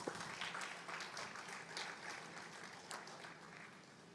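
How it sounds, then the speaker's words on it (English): Conference audience applauds a volunteer with a faint, distant patter of clapping from a crowd, steady for a few seconds. "Please let's give our sister a round of applause."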